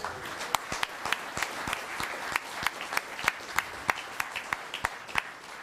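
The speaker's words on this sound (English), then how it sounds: "So let's give them a round of applause." Scattered audience applause at a Los Gatos town council meeting: individual claps ring out fairly quietly and steadily over a soft room murmur for the whole stretch.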